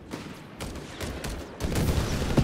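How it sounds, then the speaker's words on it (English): Heavy automatic gunfire crackles in dense bursts from a Company of Heroes 3 World War II battle, a steady barrage that grows louder and heavier toward the end, with no voices. "And in the south, Pioneers being met with heavy automatic fire"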